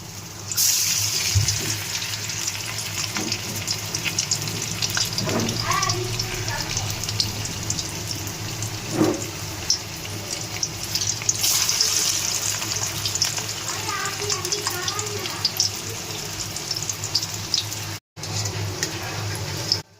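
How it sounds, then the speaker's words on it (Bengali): Small chopped shrimp fritters frying in a pan give off a steady, loud, broadband hiss that runs the whole time, with a faint voice murmuring now and then underneath. "এই যে মা কুচু চিংড়ি নিয়ে এসেছিলো তো একটু বড়াটা ভেজে নিচ্ছি"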